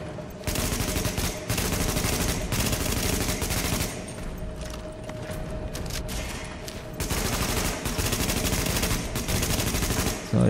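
Sustained automatic gunfire in the video game The Division, in an underground subway morgue area, with rapid bursts running almost continuously and loud, broken by a few short pauses.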